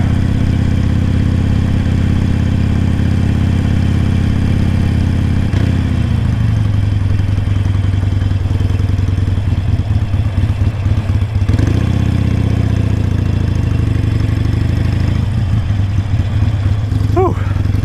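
Harley-Davidson Sportster motorcycle ridden through Bike Week in Daytona Beach, Florida, including a stretch of sand, its engine rumbling steadily and loud throughout, pitch shifting as it slows and picks up again, with clattering at times.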